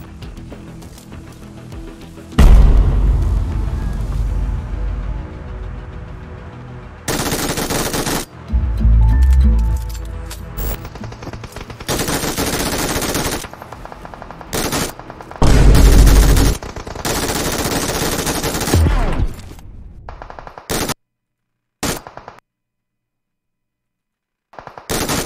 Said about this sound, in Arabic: سمع صوت الرمي.